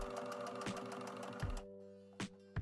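A sewing machine stitches a run and fell seam on a denim jacket, giving a dense, steady mechanical whir with a motor tone and a few thumps, then stopping near the end, with no talking.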